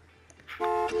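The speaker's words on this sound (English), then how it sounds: "You don't fucking honk at me" A car horn honks in the Gas Station Simulator game, a short toot followed by a louder sustained blast, heard alone and close.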